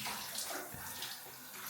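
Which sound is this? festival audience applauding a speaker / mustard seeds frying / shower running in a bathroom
shower running in a bathroom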